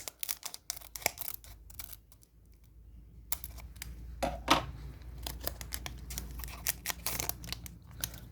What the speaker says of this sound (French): Donc nous ouvrons le quatrième paquet.